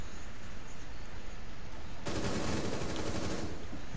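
Sustained burst of rapid gunfire in Rainbow Six Siege, dense and loud with a rattling automatic rhythm that thickens halfway through, muffled at first as if from another floor, with no talk over it.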